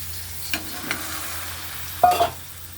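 Green peas fry with sautéed onions and spices in a pan for a peas kootu, giving a soft steady sizzle broken by a few scraping stirs. The loudest spatula scrape comes near the end.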